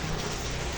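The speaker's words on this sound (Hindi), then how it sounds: "चलिए अभी बारिश आ गई है" Rain falling as a dense, steady, loud wash of broadband hiss with no gaps or distinct drops, continuous from start to finish.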